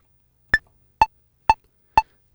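A Korg Volca Keys synthesizer steps through a sequence of four short, evenly spaced quarter notes, each a crisp percussive blip with a brief decay, close and clean against silence.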